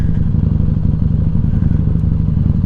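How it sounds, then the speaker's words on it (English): Harley-Davidson Street motorcycle with a Vance & Hines slip-on exhaust idling close by, a loud, deep, lumpy rumble with a steady pulsing beat. "Scarlett also has a Vance & Hines exhaust. So it's a slip-on, but it makes a huge difference"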